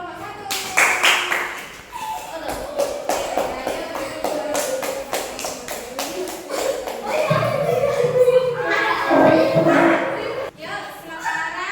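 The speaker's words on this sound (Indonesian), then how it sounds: "Sekarang beri tepuk tangan kepada kelompok 1." A classroom group of students claps for the first presenting group, brisk uneven clapping with children's voices and chatter mixed in, growing into a fuller burst of applause with talk near the end.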